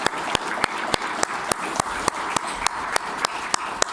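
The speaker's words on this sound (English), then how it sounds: "let's give them a big round of applause for being out here and sharing their experience with us" An audience at a talk on converting Ohio dairy farm manure into energy gives a round of applause, with sharp, fairly regular claps ringing out close and steady.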